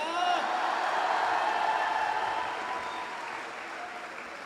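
An audience at a Hindi comic poetry recital applauds, a broad burst of clapping with a few whoops that is fullest at first and gradually fades over several seconds.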